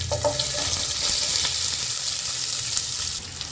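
Onion sizzles in a pan with whole spices already fried in oil, a steady close hiss with light stirring and scraping at the start, continuing alone without talk.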